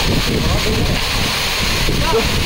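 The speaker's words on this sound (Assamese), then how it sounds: "এতিয়া ফাইনলি কিন্তু বহুত বতাহ বলি আছে" Strong wind gusts beside the Kakochang waterfall in Karbi Anglong, Assam, make a steady, loud broadband roar with rushing water underneath that fills the whole stretch without pause.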